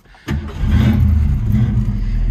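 A Blue Acapulco 1965 Ford Mustang hardtop coupe with a V8 engine cranks and fires after a brief pause, then settles into a deep, loud, rumbling idle with a throaty exhaust.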